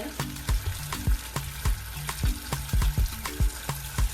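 Garlic tossed into a hot pan on high heat sizzles under repeated rhythmic knocks and thuds of a utensil against the pan, with a low hum in the background.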